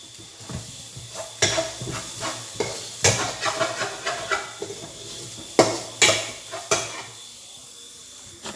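Grated carrot being stirred into a vegetable cutlet mixture in a pan: irregular scraping and clinking strokes of a spoon against the vessel, with a faint hiss beneath and no talking.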